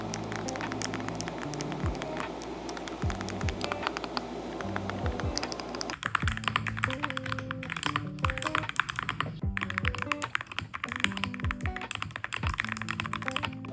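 Rapid, crisp clacking from a mechanical-style computer keyboard during a typing sound test, keystrokes tapping in quick irregular bursts, close and clear with no talking.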